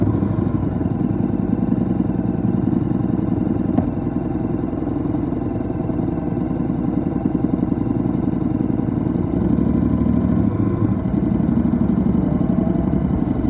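A Honda X-ADV 750 scooter idles in neutral, its engine giving a steady, close, low rumble with a faint clattery texture that holds evenly throughout, with no talking over it.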